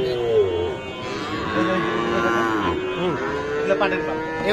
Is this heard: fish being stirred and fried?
no